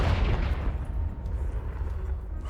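A magical Confringo blast in Hogwarts Legacy bursts against a debris pile, a loud low boom that rolls and fades over a couple of seconds, heard alone.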